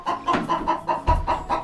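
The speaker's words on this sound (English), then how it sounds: "mama hen" A hen clucks repeatedly in short, evenly spaced bursts, close and fairly loud, with a low rumble underneath.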